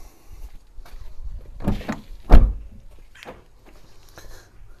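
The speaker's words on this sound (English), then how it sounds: "oh, I haven't shut the door properly." A car door is pulled shut on a damaged car being repaired, giving two sharp, close thuds about half a second apart, the second louder, with faint handling noise around them.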